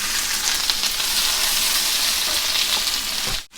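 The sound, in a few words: onions frying in oil for chicken curry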